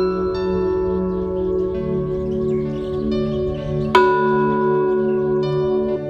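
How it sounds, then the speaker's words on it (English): A Buddhist temple bell outside a temple near Ananda in Bagan, Myanmar rings with a sustained, shimmering tone, struck clearly once partway through and ringing on at a steady moderate loudness. "These bells are often rung when a Buddhist comes to pray."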